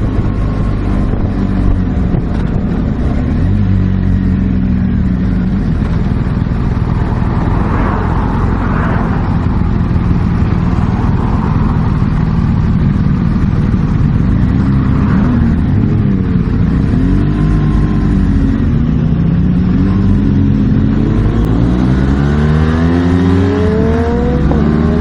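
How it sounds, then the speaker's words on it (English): A 2016 BMW R 1200 GS Adventure motorcycle accelerates hard on the Laguna Seca track, its loud engine note rising and dropping through quick-shifter gear changes under heavy wind roar. "Quick shift in there. Ah, you got the quick shifter going."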